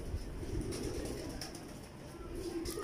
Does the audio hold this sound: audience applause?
no